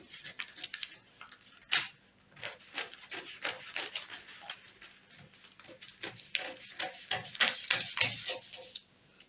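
Scissors snip through fabric, cutting out a Queen Anne neckline pattern with a princess dart, in a quiet run of close, crisp irregular cuts and rustling cloth, with no talk.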